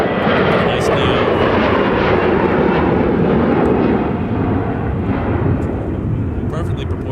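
An Air France Airbus A330neo airliner lands at Minneapolis–St. Paul airport, its engines producing a loud, steady, broadband roar that fills the whole stretch without pause.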